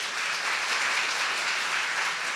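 A church congregation gives a short burst of steady, continuous applause with no one talking.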